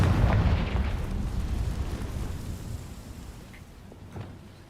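Confringo blasting spell explosion in the video game Hogwarts Legacy, a loud booming blast that rumbles and slowly decays over several seconds, with a smaller pop near the end.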